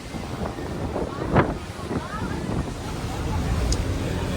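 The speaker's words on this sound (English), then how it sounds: "quite a windy day and cold" Gusty wind buffeting the microphone on a boat trip at Milford Sound on a cold windy day, with a steady roar, rumbling lows, engine or water noise underneath and a voice faintly mixed in.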